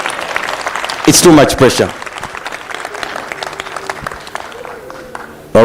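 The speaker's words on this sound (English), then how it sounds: "Let's just clap for them before they come here." Audience at a youth empowerment summit bursts into loud clapping and cheering for about a second, then fades into scattered claps while a person talks close by; applause swells again right at the end.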